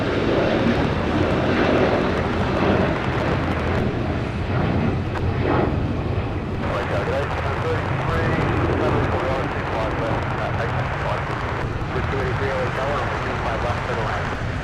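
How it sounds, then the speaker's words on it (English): A Philippine Airlines Boeing 777-300ER departs LAX for Manila with a loud, sustained roar of jet engines that stays heavy throughout, while people talk over it. "departing off the north side of Philippines with a 777-300ER headed to Manila"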